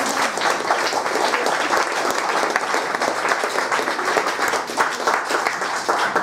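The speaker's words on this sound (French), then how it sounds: "Applaudissements, s'il vous plaît." A conference audience gives a long round of applause, thick and steady clapping from many hands filling the room at an even, moderate level, with a murmur of voices faintly underneath.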